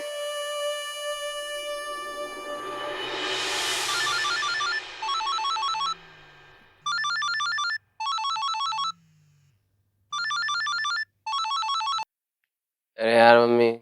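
Telephone ringing in repeated bursts with silent gaps between them, following a rising electronic sweep, clear and close, with a short voice at the end.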